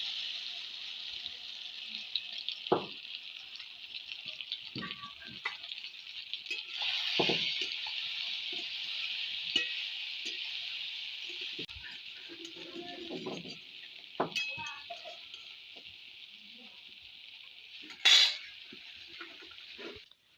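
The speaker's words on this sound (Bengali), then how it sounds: "তেল গরম হয়ে গেছে, এবার দিয়ে দেবো সয়াবিন।" Soybean chunks frying in hot mustard oil give a steady, moderately loud sizzle throughout, broken by occasional sharp utensil clicks and scrapes against the pan.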